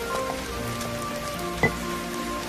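Rain falls in a steady, even patter on surfaces outdoors, with a soft continuous hiss and one brief louder drop or splash partway through.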